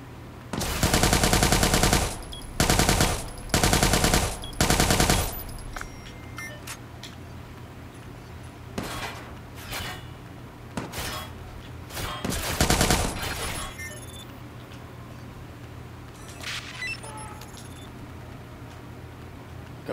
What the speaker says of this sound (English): Who the fuck is shooting at me and why?